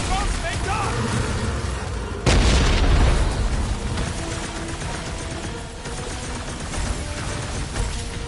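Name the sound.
explosions of boom balls in the Guardians of the Galaxy video game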